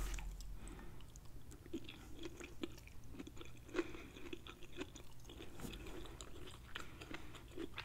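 Close, quiet chewing of crunchy cooked cabbage with turkey sausage, a steady run of soft bites and crunches with no talking.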